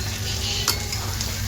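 Brinjal curry with dried fish fries and sizzles steadily in a pan while being stirred, with one brief scrape or clatter partway through; no one speaks.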